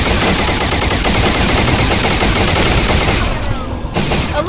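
Sustained rapid automatic gunfire rattles without a break in the Halo SPV3.2 first-person shooter game, dense and loud throughout.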